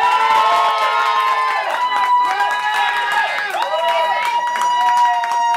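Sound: audience applause and cheering at a contest

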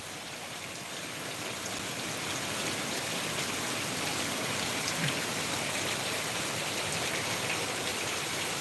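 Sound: heavy rain in Trichy

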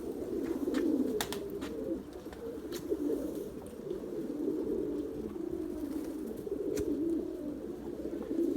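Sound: white pigeons cooing

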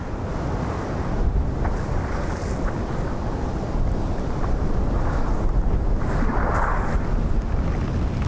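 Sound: strong wind blowing spray across water during a storm

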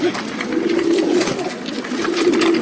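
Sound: pigeons cooing in a pigeon farm

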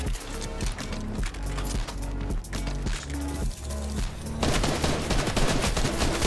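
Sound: gunfire in the video game Fortnite

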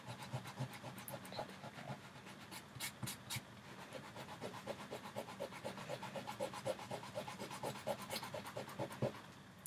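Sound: fingers rubbing paper off an acrylic medium image transfer

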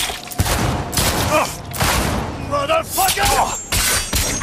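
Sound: gunfire in the video game Cyberpunk 2077

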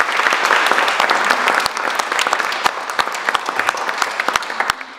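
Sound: big round of applause

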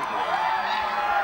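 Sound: crowd cheering at total solar eclipse

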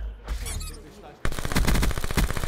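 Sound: gunfire in the video game Black Ops 4

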